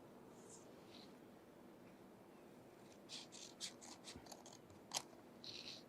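Scissors cutting paper in half, a few quiet, close snips and crisp rustles clustered in the latter half, soft and intermittent against a faint room background.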